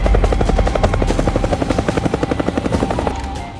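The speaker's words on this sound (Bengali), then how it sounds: "ওই তো হেলিকপ্টার আইছে" A helicopter flies close by, its loud rotor chopping in a steady, fast pulse over a deep engine rumble that eases slightly toward the end.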